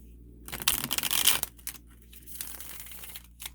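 Tarot cards are riffled and shuffled in a quick papery burst, followed by softer scattered card handling and taps, close by with no talking.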